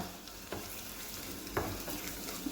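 Faint, soft sizzling from food in a pan, with a couple of quiet stirring scrapes, heard close but at low level and without talk.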